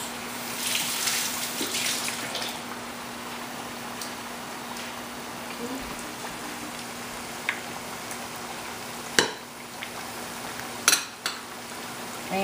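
Steady running water in a home kitchen while hands are rinsed, a soft continuous hiss with a few brief clinks and splashes near the end.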